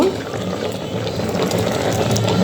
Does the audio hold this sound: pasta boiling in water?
yes